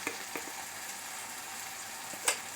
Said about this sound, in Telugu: మొత్తం ఇలా వేసి బాగా ఫ్రై అయ్యేదాకా ఫ్రై చేసుకోవాలి